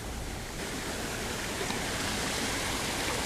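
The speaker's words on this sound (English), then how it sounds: "Oh yeah, waterfall action." Waterfall pouring steadily into an urban pond among rocks, a constant close broadband rush of falling water with no breaks, growing slightly fuller after the first half second.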